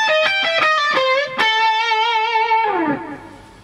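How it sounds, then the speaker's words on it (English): Solo blues lead on a distorted electric guitar, a minor pentatonic position 5 lick: rapid picked notes, a bend, then a sustained vibrato note that slides down and decays, played close with no voices. "Lick number 3 sounds like this."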